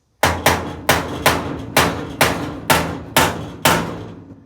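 A small sledgehammer strikes wooden floor framing eight times in an even, unhurried rhythm. Each blow is a sharp, close, loud thud that rings briefly before the next.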